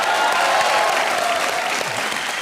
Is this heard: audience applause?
yes